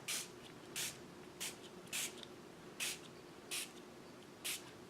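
Dylusions Shimmer Spray mists from a spray bottle with a reworked nozzle in seven short, crisp hissing bursts spaced about a second apart, close and fairly loud over a quiet room hum, with no talking.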